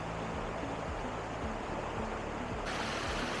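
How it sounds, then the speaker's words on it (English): A stream runs steadily at a UK walking spot, a close, continuous rushing and gurgling wash of water with no voices. "Don't you just love the sound of running water?"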